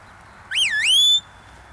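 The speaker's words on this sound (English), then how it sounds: "Long whistle, I want him to go all the way up to balance." A long rising-and-falling sheepdog herding whistle, a single clear call of about 0.7 seconds sweeping up and down then holding a high steady tone, loud and close over quiet background.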